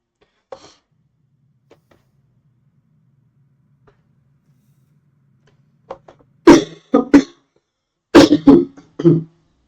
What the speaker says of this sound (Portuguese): Tô com uma tosse aí, pessoal.